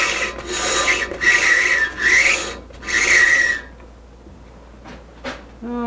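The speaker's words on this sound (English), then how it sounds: "I said I was going to lop these corners off here on the belt sander" Wood from an acoustic guitar part is pressed by hand against a belt sander, giving four rough rasping bursts of sanding close by, followed by faint scrapes and a short squeak.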